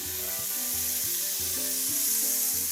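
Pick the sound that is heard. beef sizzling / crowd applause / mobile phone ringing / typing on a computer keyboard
beef sizzling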